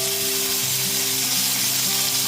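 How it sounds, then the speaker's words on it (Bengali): Ginger paste sizzling in a hot pan on a low gas flame during a vegetarian brinjal recipe, a steady broadband hiss with faint scraping as it is stirred, continuous and close. "একটু নাড়াচাড়া করে নেওয়ার পর এতে দিয়ে দিচ্ছি 1 টেবিল চামচ আদা বাটা"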